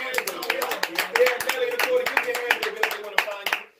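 A small audience on an informal talk show claps, with a quick string of sharp, close handclaps over several seconds and a faint hum underneath, trailing off at the end.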